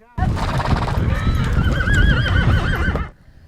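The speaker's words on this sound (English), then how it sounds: "the horses are on the move" Horses on the move during a large horse drive whinny loudly and neigh over a continuous clatter of hooves, close and dense, before cutting off abruptly.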